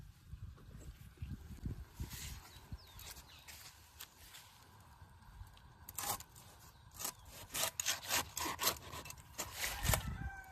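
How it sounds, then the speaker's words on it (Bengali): A knife cuts through fresh hilsa fish, giving a series of rough rasping scrapes that grow louder and more rhythmic toward the end, set against quiet kitchen background. "আমি ততক্ষণ মাছটা কেটে নিই।"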